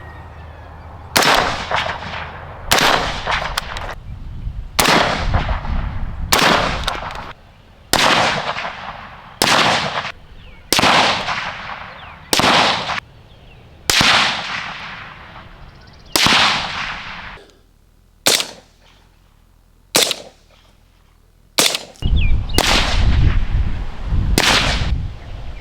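Rifle shots fired through a Griffin Armament HRT 556 3D-printed suppressor, about fifteen sharp, loud reports spaced one to two seconds apart, each with a short decaying tail, heard close up outdoors without talk.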